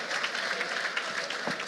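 Applause from an audience at a live talk show, a dense steady wash of clapping filling the whole brief moment with no speech.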